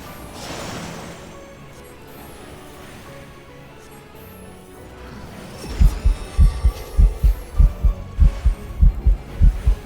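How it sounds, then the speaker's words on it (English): A heartbeat sound effect plays during a chill game stream, starting halfway through as a run of deep, rhythmic double thumps that grow steady and prominent above a murky ambient hum. "why do I hear a heartbeat?"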